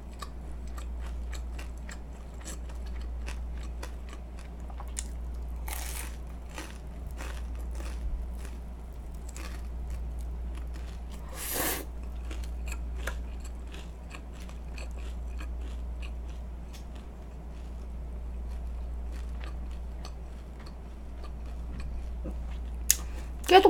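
Crispy sweet and sour pork (tangsuyuk) being chewed close to the mic: repeated sharp crunches and bites in an irregular rhythm over a low steady hum, with no talking.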